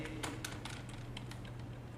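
Quiet, rapid keystrokes on a computer keyboard while typing Java code, a brisk run of light taps close by with no talking.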